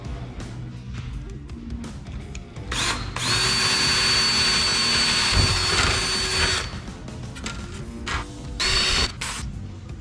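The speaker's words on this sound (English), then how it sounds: "So we're going to get a pilot hole started with a small bit and work our way up to our step bit" An electric drill bores a pilot hole with a small bit into the tunnel of an XRT snowbike while a heat exchanger is fitted, whirring in bursts with a sustained high-pitched run in the middle, loud and close, with no talking.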